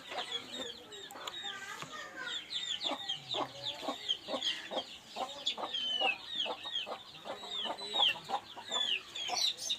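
A flock of long-tailed, short-beaked hens keeps up dense, rhythmic clucking close by, with repeated cackles and high chirps overlapping throughout and faint voices now and then underneath.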